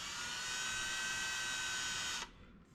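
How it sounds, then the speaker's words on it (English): An electric drill whines steadily as it bores holes through the side of a wooden handle for a cake server, loud and close, then stops abruptly near the end. "we're gonna drill some holes through the side"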